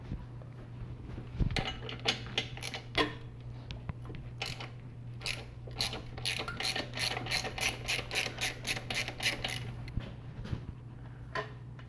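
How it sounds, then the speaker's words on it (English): A ratchet works a 12mm bolt loose on a Subaru Legacy engine during alternator replacement. Quiet, rapid clicking comes in bursts over a low steady hum, close by, with no one speaking. "Now loosen this bolt with a 12mm."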